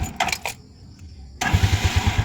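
Motorcycle engine cranks with a short starter whir, pauses, then catches and settles into a steady, pulsing idle close by, with no one talking.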